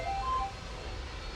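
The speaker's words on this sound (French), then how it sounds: "Ah, ça c'est mon téléphone." A mobile phone ringtone gives a short melodic burst in the first half-second, then stops, leaving a steady low background rumble.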